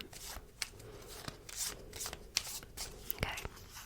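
Catastrophe cards from the Doomlings card game are shuffled by hand close up, a steady riffling and sliding with sharp snaps, and a soft voice is heard faintly under the card sounds.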